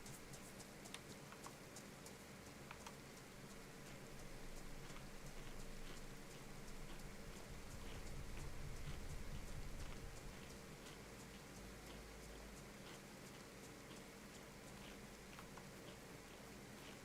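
Steady rain patters across the ground in the survival game DayZ, a constant fine hiss dotted with small drip ticks, swelling slightly midway, with no voices.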